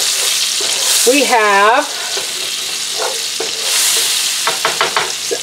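Flour-dredged stew beef going into sunflower oil and butter in a skillet, bursting into a loud close sizzle that settles into steady frying with a few utensil clicks, a voice briefly speaking over it.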